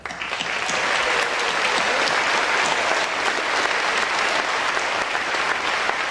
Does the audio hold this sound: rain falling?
no